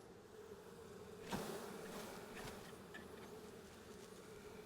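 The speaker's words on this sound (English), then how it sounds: "Got some bees flying around." A steady buzzing drone of many bees flying close by after being removed from under a floor, continuous throughout with a brief louder swell as one passes near.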